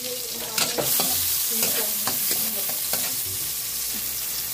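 Chicken sautéing with tomato and black pepper for sinigang sizzles steadily in a pan, with close scraping stirs recurring every second or so over the continuous frying hiss.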